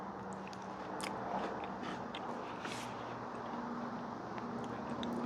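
Quiet crunchy bites and chewing of a peanut butter cookie baked on a BBQ smoker, a few soft crisp crunches close to the mic over a steady background hiss.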